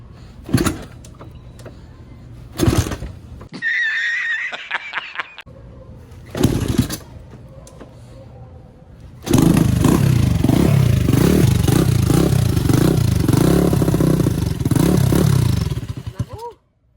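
A Suzuki Raider motorcycle fitted with a turbo 44mm carburetor cranks in short bursts, then catches and runs rough and loud for several seconds before cutting off.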